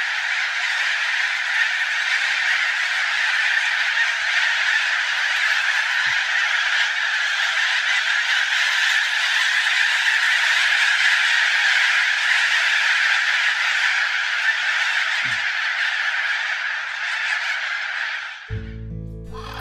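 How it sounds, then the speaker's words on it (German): A huge flock of corellas, Australian cockatoos, screams in a dense, continuous harsh chorus that stays loud and unbroken, then cuts off abruptly near the end. "Das kann nur ein Kakadu sein."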